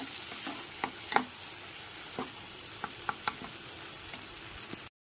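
Masala with cashew paste being sautéed on a low flame for a paneer curry, a steady soft sizzle with scattered scrapes and taps of the spoon stirring through the thick paste.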